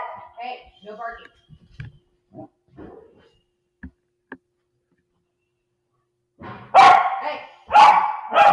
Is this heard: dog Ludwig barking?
yes